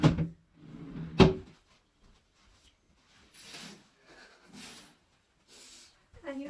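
A drawer in a student accommodation room slides open and shut, a sharp knock near the start and another louder clunk a second later, close by, followed by quieter shuffling and breathy sounds.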